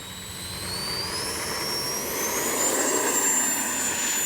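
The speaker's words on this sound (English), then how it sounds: "All right, let's go ahead and take off again." Freewing F-22 RC jet with electric ducted fans taking off, a loud rising whine that swells and climbs in pitch as the model accelerates, heard close with no talk.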